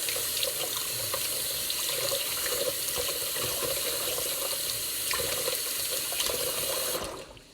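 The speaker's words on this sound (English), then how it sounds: "I'm going to get my celery washed." Celery is being washed under a kitchen tap, with a steady rush of running water splashing into a sink at close range for about seven seconds before it shuts off, and nobody talking.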